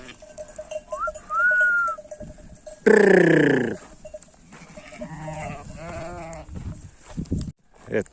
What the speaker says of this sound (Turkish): koyunlarımızı içeriye kattık